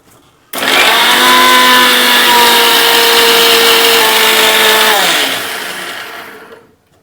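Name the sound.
mixer grinder grinding spice paste for curd brinjal curry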